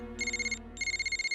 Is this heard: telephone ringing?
yes